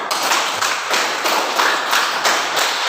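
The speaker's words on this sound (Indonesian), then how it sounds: "Baik, terima kasih kelompok 4 tepuk tangan." Students in a classroom clap together for a presenting group, a steady wash of many hands clapping at fairly close range, loud and even, with faint rhythmic pulses running through it.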